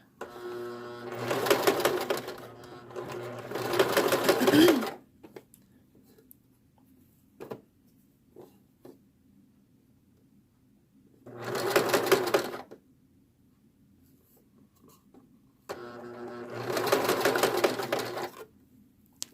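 A sewing machine set to a basting stitch runs in short bursts as small tucks are stitched along swimsuit fabric, with four separate runs of steady mechanical whirring broken by quiet pauses and a few faint clicks.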